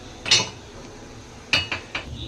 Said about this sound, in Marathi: गॅस पेटवून तवा ठेवून घेऊया।